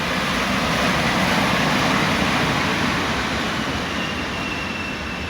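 An EU07 electric locomotive hauling a train along the middle track of a passing loop near Rybnik, a loud, steady roar of rolling wheels and rumbling wagons filling the whole stretch, close by and without voices.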